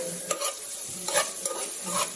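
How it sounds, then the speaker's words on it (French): Onions sautéing in a pan for fried rice, turning lightly golden, with a steady sizzle and a few quick scraping stirs, close and alone. "On va attendre que nos oignons soient légèrement dorés"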